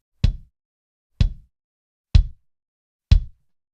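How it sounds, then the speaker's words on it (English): Four evenly spaced, punchy hits on a kick drum, picked up by a mic outside the drum and shaped with compression and a gate, each thump short and cleanly cut, alone. "And then we have this kick out mic, which is a microphone on the outside of the kick drum."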